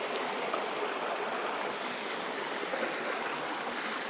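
A waterfall and stream in Lane Poole Reserve pours and splashes in a steady, even hiss of flowing water, close and continuous with no voices.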